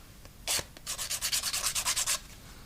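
Machine file grinding down the oversized plastic lip of a fishing lure: a short burst, then about ten quick, evenly spaced rasping passes, close and fairly loud, with no voices.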